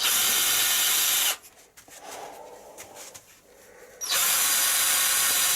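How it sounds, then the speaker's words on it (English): An electric drill runs at high speed into wood for about a second, pauses briefly, then whines loudly again, close up and with no talking. "Now we'll be using the drill to attach the machine heads on the head of the guitar."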